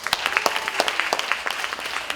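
An audience applauds a woman at a beauty pageant training session, a brisk run of distinct claps from a modest crowd, close and lively throughout.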